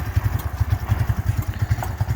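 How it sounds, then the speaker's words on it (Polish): A 2022 Barton Caffe Racer 50 moped, tuned to 80cc, idles close by, its exhaust putting out a quick, regular chugging pulse with light mechanical clatter. "posłuchacie sobie dźwięku tłumika, posłuchacie się sobie to, jak on się programuje"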